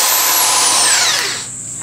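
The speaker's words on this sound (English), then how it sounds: "you can take any drill with a standard 43 millimeter nose piece on it" A power drill fitted with a standard 43 mm nose piece runs as a rotary spindle while a Titan .60 glow plug engine is built. It gives a loud, high whine that slides steadily down in pitch and then drops to a quieter hum, with no talking.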